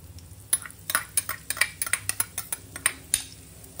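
Barnyard millet (bhagar) roasting in hot ghee in a pan, heard as a quiet series of sharp scraping and clinking strokes of a utensil against the pan, irregular and close, with no talking.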